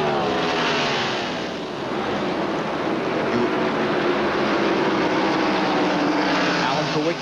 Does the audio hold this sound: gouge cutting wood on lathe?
no